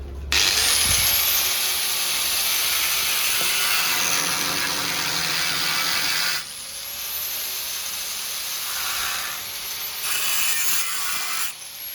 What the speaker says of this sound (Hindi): ग्राइंडर से कटिंग करेंगे इसको आप।